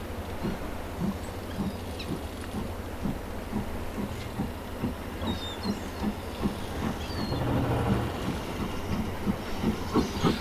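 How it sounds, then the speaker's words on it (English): A Standard Class 4 steam locomotive, number 75053, passes with its train, steady hiss and exhaust with rhythmic clickety-clack of wheels on rail joints, swelling slightly as it nears. "Here, Standard Class 4, 75053, is entrusted to this train."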